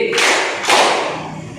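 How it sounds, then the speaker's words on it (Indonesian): Two quick bursts of group clapping from a classroom of students, one right after the other, loud and close. "Tepuk tangan 2 kali."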